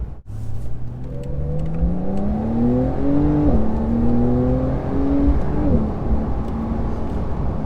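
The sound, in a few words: Porsche 911 Carrera S (992) accelerating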